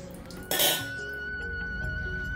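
A lid clinks once onto a pot of veg pulao, a short metallic clatter standing out against a steady low kitchen background.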